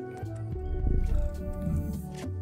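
A cat sound from the video game Return to Monkey Island, mixed into steady in-game background music across the short stretch.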